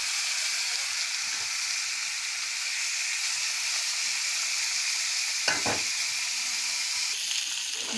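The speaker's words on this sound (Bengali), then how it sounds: "মাছগুলো ভাজা হয়ে গেছে," Pangas fish fries in a pan with oil, giving a continuous hissing sizzle at moderate level, with a brief scraping stir near the end and no voices.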